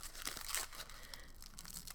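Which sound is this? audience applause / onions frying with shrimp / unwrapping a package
unwrapping a package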